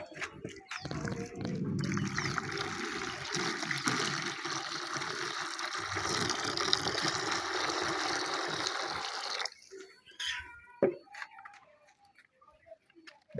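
Hot water pours steadily over indigofera seeds, splashing continuously for about nine seconds, then stops, leaving a few faint clinks and small handling noises.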